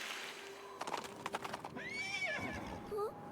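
Horse in the video game Princess Peach Showtime: a burst of quick clip-clop hoofbeats gives way to a rising and falling whinny, with game music playing steadily underneath.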